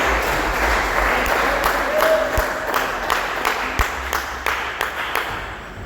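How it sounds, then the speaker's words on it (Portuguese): A church congregation claps for Jesus during a service, a steady loud patter of many hands with rhythmic accents growing clearer toward the end, and a voice or two faintly mixed in beneath the clapping. "dê uma salva de palmas alegre para Jesus"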